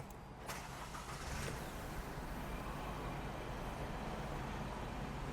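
A 2021 Isuzu D-Max Cab4 1.9-litre automatic pickup truck engine turns over and settles into a low, steady idle, fairly quiet and close, with no talking.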